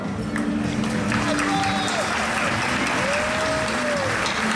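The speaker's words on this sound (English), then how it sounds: "You're allowed to clap, of course, everyone." An audience at a KTM motorcycle launch event applauds in a steady wash of clapping that holds throughout. A voice is heard over it.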